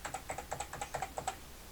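Computer keyboard keys, Shift and the arrow keys, are pressed while shapes are drawn in Illustrator, giving about a dozen crisp, close clicks in quick uneven taps with no talk.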